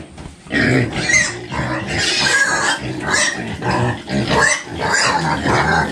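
A hungry mother pig oinks and grunts loudly and close by, in a rapid run of rough, throaty snorts that keeps going without pause.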